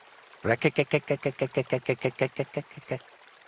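A character in Kingdom Come: Deliverance II imitates a toad's croak with his voice, a rapid, even series of about fifteen guttural, throaty pulses, close and loud, lasting a few seconds.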